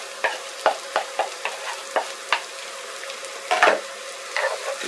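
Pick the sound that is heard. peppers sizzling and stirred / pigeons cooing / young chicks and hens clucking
peppers sizzling and stirred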